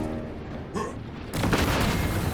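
Cannon fire in the video game Warhammer 40000: Space Marine 2, a heavy blast that swells into a dense, roaring barrage, loud and close.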